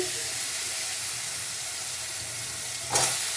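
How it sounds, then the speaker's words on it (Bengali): Vegetables for Bengali sukto sizzle steadily in a hot pan, a continuous broadband frying hiss with a brief louder burst of sizzle near the end, no talking. "এই দেখো, এবার সব সবজিগুলো দিচ্ছে।"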